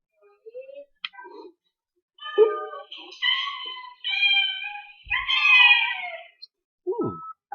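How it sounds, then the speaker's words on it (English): A cat gives several drawn-out, wavering meows close by, separated by short silences and a few faint clicks. "It's a cat."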